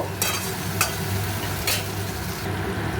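Tomato, chili and spice pastes with cumin and ginger being stirred and sautéed in a pan, a low steady sizzle with a few sharp scraping strokes of the spoon against the pan, close and moderately loud, no talking.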